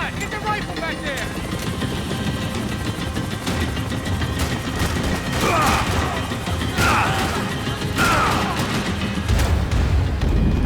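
Gunfire in the Max Payne 3 video game crackles through a dense, chaotic firefight with crashes and booms, loud and continuous, with game characters' voices mixed in.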